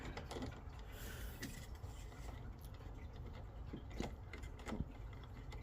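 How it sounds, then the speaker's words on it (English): A Yale Assure Lock SL touchscreen smart lock being installed is twisted backwards, giving faint scraping and a few small mechanical clicks near the end, quiet and close. "you always want to kind of like twist it backwards and hear it click like that"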